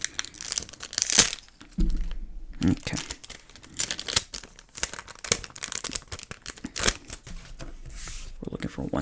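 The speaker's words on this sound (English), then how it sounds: "I know some people like the pack sounds, that's why I'm leaving it." Crinkly trading card packs, likely Pokémon, torn open by hand instead of cut with scissors, giving bursts of loud crackling, ripping and rustling foil close up, with someone talking briefly over the handling.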